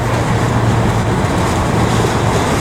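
A domestic container freight train rolls past steadily, a broad continuous roar with a low hum underneath and no breaks, loud and close for the whole stretch.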